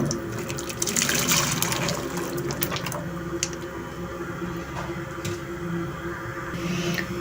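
Cauliflower pieces splash and squish into a pot of heated water on a home stove, a wet burst of sloshing at first that settles into quieter bubbling and clinks.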